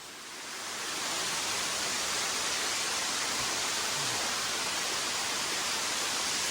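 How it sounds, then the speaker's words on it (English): Running water from a waterfall inside a cave makes a steady, dense broadband rush that swells up in the first second and then holds constant. It is fairly soft and heard on its own. "But that's pretty good running water right there."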